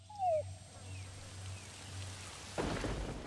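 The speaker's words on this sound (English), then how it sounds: "our intel unit is reporting rain approaching our vicinity" Rain in the video game Metal Gear Solid 5: The Phantom Pain, starting as a steady hiss under a low hum, with a brief rising tone early on, then thickening into a louder downpour near the end.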